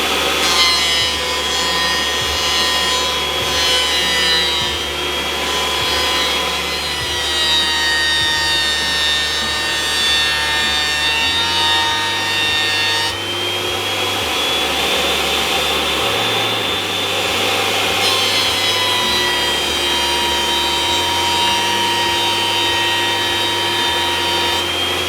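Axminster thicknesser planing a wooden board with no dust extractor attached, a loud continuous whirring cut that holds steady for the whole stretch, its pitch dipping slightly as the board feeds through.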